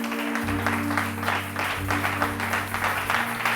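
A church congregation applauds steadily, dense rapid clapping filling the room at a constant loud level with no pauses.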